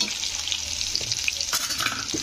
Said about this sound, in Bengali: তো দিয়ে ফোড়নগুলোকে একটু ওভেনটা স্লো করে আমি ভেজে নিচ্ছি